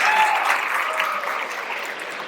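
Audience applause at a college hypnosis show, a brief, loud wash of clapping that holds steady with only a slight dip toward the end.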